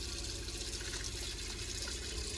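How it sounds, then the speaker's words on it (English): Hot water running from a tap inside a campervan, a steady close hiss of flowing water that stays even and unbroken throughout. "you can run your hot water."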